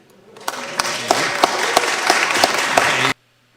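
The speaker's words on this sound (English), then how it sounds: "That got applause." Applause in a congressional hearing room on an assault weapons ban, a short burst of scattered clapping from the audience lasting about three seconds before cutting off abruptly.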